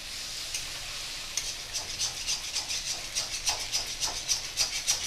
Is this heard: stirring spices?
yes